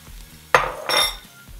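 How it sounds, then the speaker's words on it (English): Eggs hit a hot pan of melted miso and browned half onion, bursting into a loud sizzle that fades, then swells again as they are stirred, with faint utensil scraping and no talk. "Okay, that started to brown, so let's add our eggs."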